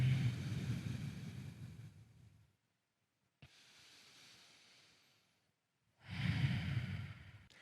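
Slow, deep breaths during a seated desk yoga stretch: a long, close, breathy exhale, a pause, a quieter inhale, then another full, loud exhale, with no talking.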